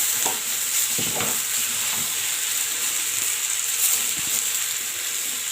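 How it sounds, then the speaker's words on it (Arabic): Rice with vermicelli is stirred in a pot, giving a steady close rustling and scraping hiss with a few sharper spoon knocks, no voices. "تقلبي بقى في الرز كده، ما تسمعي الشخلله بتاع الرز كده"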